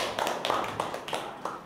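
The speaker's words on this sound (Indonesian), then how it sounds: "Nah, tepuk tangan untuk kita semua." A school class in an Indonesian junior high religious-education lesson claps briefly, a short burst of scattered hand claps and taps from nearby students.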